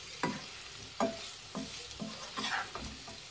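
About a quarter kilo of boiled potato cubes is stirred in a frying pan for aloo fry, a spatula scraping in repeated strokes roughly every half second over a faint, soft sizzle, quiet and close.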